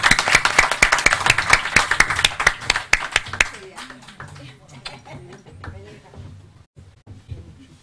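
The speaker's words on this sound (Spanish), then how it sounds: "Un aplauso grande, otra más." A group at an event with nurses of the Air Force claps for about three and a half seconds in a brisk, close burst, then the applause thins into scattered claps as voices talk.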